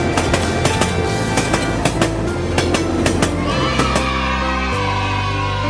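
A toy train clatters along a model railway in a DIY construction science project, with rhythmic clicking wheels over steady rumble, loud and close, while children's voices and a crowd-like cheer sound in the background.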